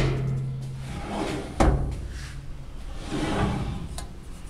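A steel tray slides out of a portable military surplus pharmaceutical cabinet drawer with a scraping metallic rumble, a sharp clunk partway through, then further sliding and a light click, close and clear.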